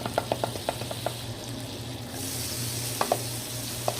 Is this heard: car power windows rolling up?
no